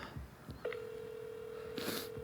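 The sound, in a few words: telephone ringing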